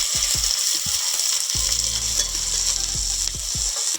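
Chopped onion fries in mustard oil in a pan with a bright, continuous sizzle, broken by repeated rhythmic scraping and knocking of a spatula against the pan.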